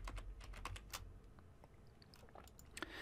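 Keys tapped on a computer keyboard in a quick, close burst of clicks, then a few scattered presses after a short pause, with no talking.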